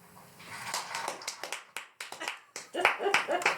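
Clapping in a radio studio setting, delivered as short, uneven bursts of claps mixed with voices, close and fairly clear, with brief gaps between the bursts.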